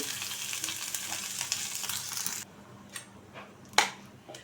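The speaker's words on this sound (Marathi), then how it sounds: "आता आपण पॅनमध्ये लसूण आणि आलं आणि बडीचे थोडी परतून घेऊया" Garlic, ginger and fennel seeds sauté in a pan with a steady broadband sizzle that cuts out partway, followed by a few faint clinks and one sharp utensil tap near the end.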